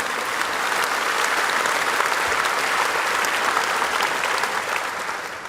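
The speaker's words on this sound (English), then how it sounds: "Let us give them a big round of applause for that." Audience applause at a China-Africa summit, a sustained, even roar of many hands clapping, fairly loud and continuous throughout before tapering slightly at the end.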